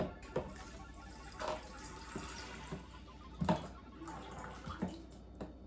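Spring water pours from a bottle into a measuring cup while elderberry syrup is being made, a 4-cup measure. Soft, intermittent splashing and trickling with a few sharper drips and clinks, close and fairly quiet, with no talking.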